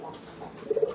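A racing pigeon cooing close by, a brief low throaty coo rising near the end of a short moment, with no talk over it.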